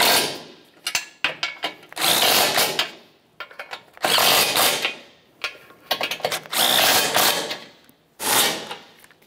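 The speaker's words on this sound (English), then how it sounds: "With both sides of the mounting nuts started on, we'll tighten them up." A power tool runs down and tightens the front bumper mounting nuts on a 2012-2018 Nissan Altima, in five or six loud close bursts separated by short pauses.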